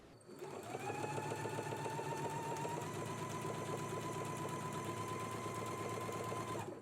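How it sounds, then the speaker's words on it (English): Steady, close stitching from a sewing machine sewing the waist seam of a jumpsuit along a basting line, a continuous rapid mechanical whir running unbroken for several seconds. "let's go ahead and stitch all the way along the waist seam, following along with that basting stitch"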